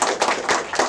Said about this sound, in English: Please give us a round of applause to welcome Bree